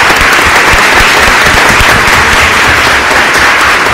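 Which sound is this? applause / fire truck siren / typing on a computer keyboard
applause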